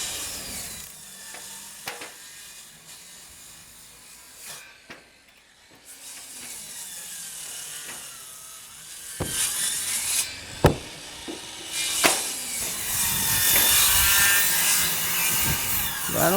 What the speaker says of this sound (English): Well, Dan, we're gonna start pounding this log in here